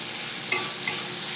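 Grated bottle gourd with salt sautéing in a pan, giving a continuous close sizzle with two quick stirring scrapes in a short burst.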